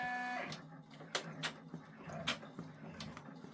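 An embroidery machine stitches a placement line on an OESD freestanding quilt block, giving a soft whir broken by quick, irregular clicking needle strokes, quiet and close.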